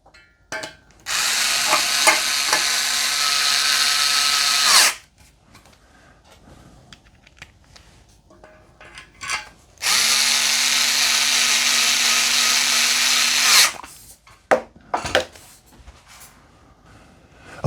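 A power drill drives screws to fit hooks onto a coat rack, two sustained whirring bursts of about four seconds each, loud and close, with clicks and handling noises between them.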